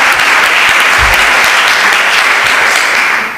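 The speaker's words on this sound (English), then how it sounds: "Warm applause." Loud, dense applause from an audience at a dance film awards ceremony, continuous clapping throughout and close.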